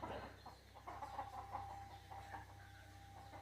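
Soft, distant clucking of chickens over a quiet outdoor background, with scattered faint calls.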